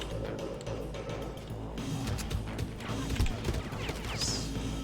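Enemy gunfire crackles in the Far Cry 1 shooter, a scatter of sharp cracks and thuds at moderate loudness over a steady low rumble, with no talk.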